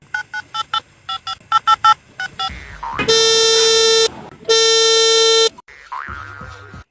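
A quick run of short telephone keypad tones in uneven rhythm, followed by two long, loud buzzing tones and a springy boing.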